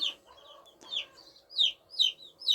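Chicks and chickens in a coop make a string of bright, rising peeps close by, interspersed with lower, soft clucks in an uneven rhythm.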